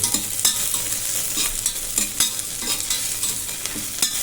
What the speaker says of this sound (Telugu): మిరియాలు మొత్తం ఇట్లా వేగనివ్వండి